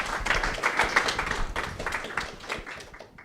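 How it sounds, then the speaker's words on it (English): A conference audience at a tech business talk applauds to welcome the speakers, a dense, lively patter of many hands clapping that fades toward the end. "Please give them a round of applause."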